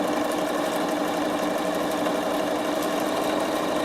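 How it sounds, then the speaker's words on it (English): A Bernina sewing machine stitches a row on fabric with a continuous, even mechanical whir and rapid rhythmic needle chatter, close by and unbroken throughout. "I sew my first row of stitching, lining up my two central lines"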